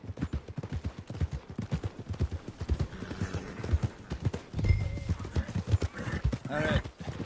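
Horse hooves clip-clop at a steady walking pace in Red Dead Redemption 2, close and rhythmic, with a voice speaking over them at times and a brief louder burst near the middle.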